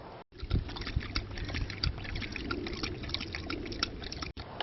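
Water pours steadily into a dog water bottle on a summer hike in Sunol Regional Wilderness, a continuous trickling splash close up and fairly quiet.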